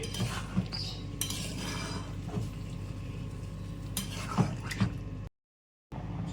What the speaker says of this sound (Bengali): এবার এটাকে ভালো করে মিশিয়ে নিতে হবে পনিরের সাথে